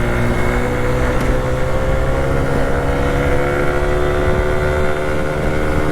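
A scooter fitted with a big bore kit runs at wide open throttle, its small engine droning loud and steady with a constant buzzing pitch throughout, no voices over it.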